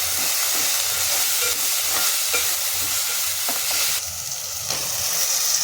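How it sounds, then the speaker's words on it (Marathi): Goda masala and garam masala stirred in a hot pan for keema pav: a steady, loud sizzle with scraping spoon strokes at irregular intervals, with no talking. "मसाले आपल्याला व्यवस्थित छान मिक्स करून घ्यायचे आहेत"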